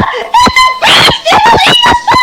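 A voice imitates screams, a series of loud, high shrieking and squealing bursts with short gaps, close and alone, half laughing in tone.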